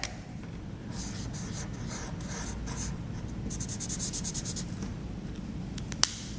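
Marker pen strokes scratch across a board during a genetics lesson, a series of short squeaky drawing strokes in bursts with brief pauses, a faint room hum underneath and one sharp tap near the end.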